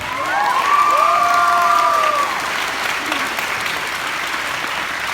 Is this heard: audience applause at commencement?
yes